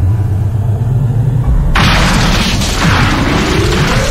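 A bomb explosion effect in a Bengali horror audio story: a low rumbling bed suddenly erupts into a loud, broad roaring blast that keeps thundering without fading.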